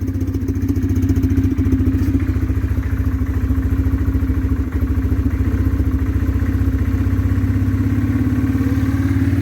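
A 2004 Yamaha Kodiak 450 ATV engine starts from cold on full choke and settles into a steady, loud, rapid idle with fine mechanical clatter throughout, close by with no talking.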